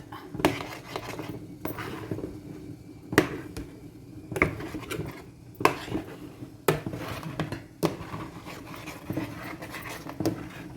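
Cassava dough is stirred in a pan on the stove, with repeated scraping and knocking strokes of a spoon against the metal every second or so, close and fairly quiet.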